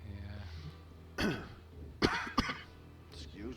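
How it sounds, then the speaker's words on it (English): A few harsh coughs and a throat clear, close by, spaced over a couple of seconds against a quiet room. "Excuse me, coughing."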